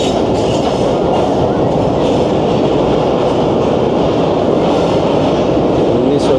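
Train rumbling into Havelian station, the last railway station in KPK, on the 267UP from Rawalpindi, with loud continuous wheel clatter and rail noise from close by and faint wheel squeals throughout.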